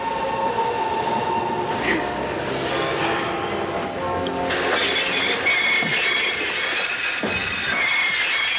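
A train rolls into a station with a loud, continuous rumble and metallic screeching, brakes squealing as it slows, steady and close throughout.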